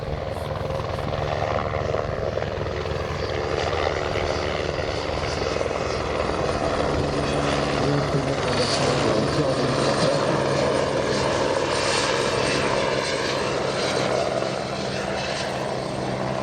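A Fennec military helicopter flies past during an air assault brigade exercise, its steady rotor and turbine roar loud and continuous for the whole stretch, swelling slightly in the middle.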